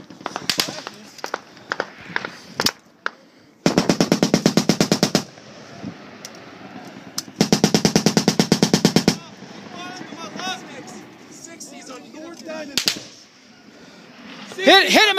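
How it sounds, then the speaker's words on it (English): Heavy machine gun and rifle fire in a U.S. Army firefight, with long sustained automatic bursts and scattered single shots, loud and close, as soldiers shout between volleys. "Shoot higher! Shoot higher, Bruce!"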